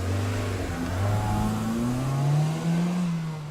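A Suzuki Swift with a small 136 hp engine accelerating hard, the engine note rising steadily through the gears, heard from inside over road noise with no talking.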